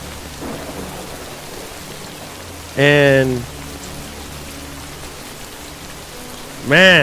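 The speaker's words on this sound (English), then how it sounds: "as you can see it's raining right now" Steady rain hiss with low rumble throughout in the video game Death Stranding 2 on PS5 Pro, broken by two short bursts of speech.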